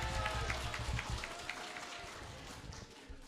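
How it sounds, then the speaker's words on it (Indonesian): Audience applause at an Indonesian religious sermon by KH MD Ubaidillah (Kang Ubay), a steady patter of many hands clapping throughout, moderately loud and gradually easing, with faint crowd murmur beneath. "Tepuk tangan untuk pemimpin ada bukti"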